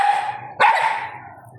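A dog gives a sharp, close bark partway through, set against a steady background tone.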